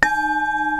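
A singing bowl from a set of 23, 17 and 12 cm bowls rings with a sustained, steady metallic tone and a gentle pulsing wobble, close and clear, fading slightly at the end.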